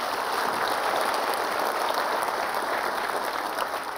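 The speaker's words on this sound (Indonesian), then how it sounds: "Kita berikan aplaus sekali lagi lah" A studio audience claps loudly and steadily at a talk show, a dense, even roar of applause that fills the whole moment.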